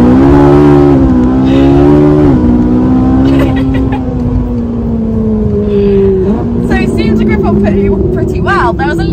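A Ferrari 458 Italia on a track accelerates hard, its engine note climbing loud and close through gear changes, while someone talks over it.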